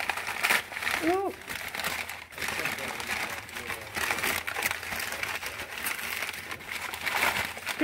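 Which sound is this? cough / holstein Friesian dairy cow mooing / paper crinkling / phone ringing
paper crinkling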